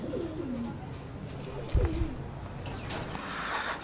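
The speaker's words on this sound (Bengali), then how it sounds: "ভাই এটা সাদা কিং ভাই সাদা কিং আমরা দেখতে পাচ্ছি কিং কবুতর" White King pigeons coo at a farm, several soft descending throaty coos close by, with a brief thump and rustle midway and faint background noise.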